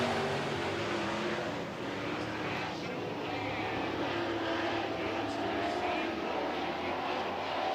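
Super trucks racing around an oval track, their engines droning as a steady, distant roar of several motors blending together, with a race announcer talking over the top.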